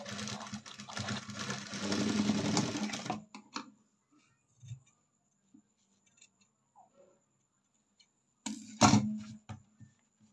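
A sewing machine stitches a blouse in a loud, rapid whirring run for about three seconds, followed by faint fabric handling and small clicks, then a shorter burst of stitching near the end.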